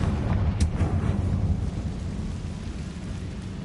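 Fiery Confringo spell blast from Hogwarts Legacy, a sharp burst followed by a loud, rumbling roar that lingers and slowly fades.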